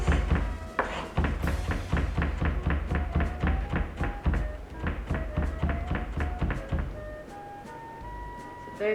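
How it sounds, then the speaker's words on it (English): A knife chops evenly through garlic on a cutting board for Japanese rayu, a fast, steady run of close, sharp taps over about nine seconds, slowing slightly near the end. "try to chop everything evenly so there's no big pieces or too small"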